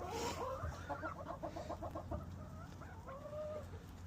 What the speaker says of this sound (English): They got a bunch of happy chickens.